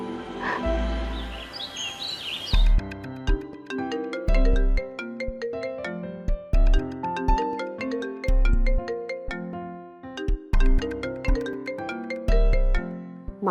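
A mobile phone rings with a melodic ringtone of repeated chiming notes, loud and close, playing on without anyone talking over it.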